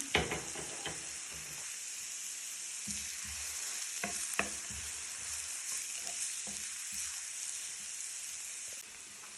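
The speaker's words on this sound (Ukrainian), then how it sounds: "Цибулю і часник підсмажуємо." Onion and garlic frying in a pan for a vegetable sauce, with a steady bright sizzle throughout and occasional louder stirring scrapes and pops, close and alone without voices.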